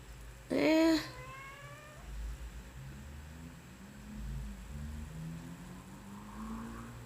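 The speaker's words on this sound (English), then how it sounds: "Yes, cat? Yes, kitty? She's really begging for food." A pet cat begging for food lets out one close, clear meow with a rising-and-falling pitch early on, followed by several seconds of quiet room background.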